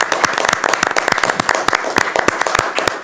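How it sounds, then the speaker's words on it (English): A small group applauds at a school board of education meeting, sharp individual claps standing out clearly against a thinner background of clapping, fairly close and brief. "Round of applause for him."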